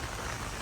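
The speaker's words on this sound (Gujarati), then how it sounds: "આટલો બધો ફૂલ વરસાદ આ જુઓ, આ બોડેલીનો વરસાદ છે અમારે." Heavy rain pouring onto a flooded highway in Bodeli, a dense even hiss of falling water, steady and fairly faint, with no voices.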